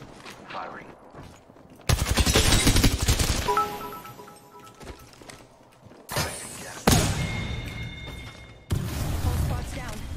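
Apex Legends gunfire comes in several sharp, loud bursts of rapid shots separated by brief lulls, with in-game voice callouts between them.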